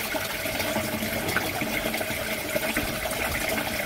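Water pours steadily into a tank fitted with an automatic level controller, rising toward the full-level sensor as the pump motor runs; a continuous, moderately loud gushing and splashing with no pause.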